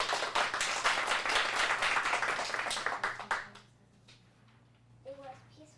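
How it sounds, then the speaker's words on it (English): A small group of acting students applauds in a studio, a dense burst of clapping lasting a few seconds before fading out, followed by a voice beginning to speak. "Big round of applause."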